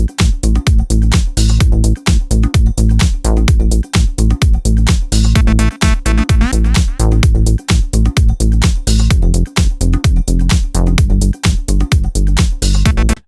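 Indie dance synth lead riding a loud, dense full mix with a steady pounding kick drum throughout.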